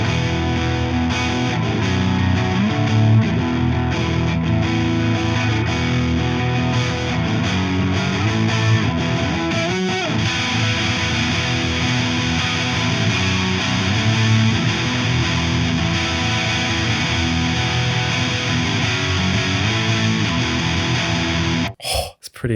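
A Mesa Boogie Trem-O-Verb Dual Rectifier amp carries an electric guitar playing a song's intro riff in a steady, sustained tone, loud and close, with no one talking, before it cuts off sharply near the end.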